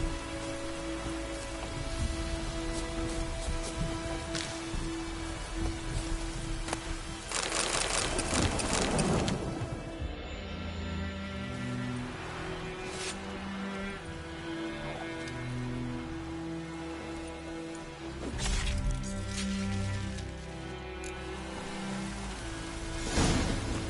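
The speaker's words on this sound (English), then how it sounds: "A storm, damn it." Steady rain patters across surfaces alongside a low rumble and shifting tones, a continuous rainstorm bed in The Witcher 3 video game, with no voices.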